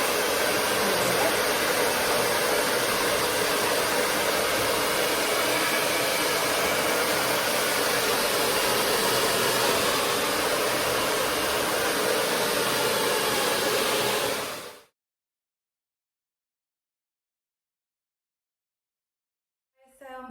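A hair dryer blows steadily with a broad, loud rushing hiss for about fifteen seconds, then cuts off abruptly into silence.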